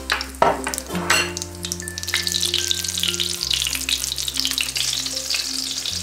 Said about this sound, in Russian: на загретую сковородку с оливковым маслом обжариваем со всех сторон до золотистой корочки